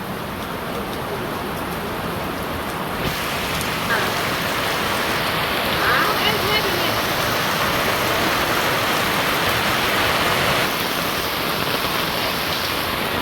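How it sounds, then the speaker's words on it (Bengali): Steady rain pours over a Bangladeshi village, a dense continuous hiss at close range throughout, with brief faint voices mixed in. "এই যে বৃষ্টি পুরা কিন্তু বৃষ্টি নেমে গেছে।"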